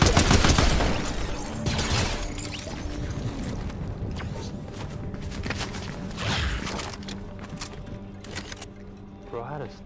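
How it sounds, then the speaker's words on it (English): Rapid bursts of gunfire in the video game Fortnite on PC, loudest at the start and continuing in scattered shots and volleys, with players talking throughout. "They're shooting near us"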